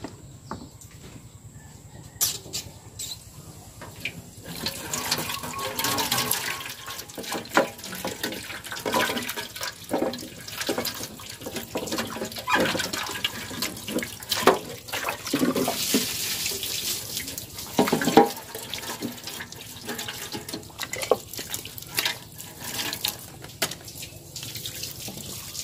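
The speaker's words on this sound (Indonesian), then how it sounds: "sekarang saya mau cuci akuarium dia" Water runs steadily from a tap while a small budget aquarium for fish and shrimp is rinsed out, with splashing and gurgling bursts over a continuous flow, close and fairly loud, and no voices.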